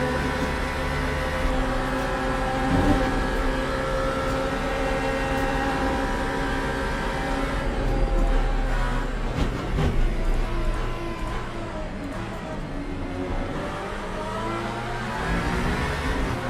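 Aston Valkyrie GTP race car engine in the sim racing game Le Mans Ultimate, a loud continuous drone with shifting harmonic tones as engine speed rises and falls, no voices over it.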